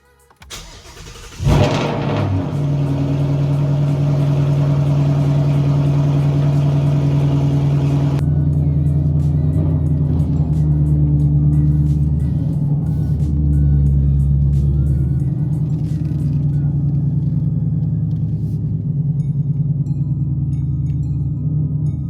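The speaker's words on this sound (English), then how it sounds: "let me go ahead and start the car up, get it out of the garage" A 2019 Ford Mustang GT engine cranks and fires up with a sharp burst, then settles into a loud, steady, deep rumbling idle that continues alone for the rest of the clip.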